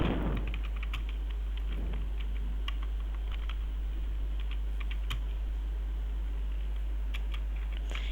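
Fingers tap on a computer keyboard in short, irregular clusters of close clicks over a steady low electrical hum, with no voices.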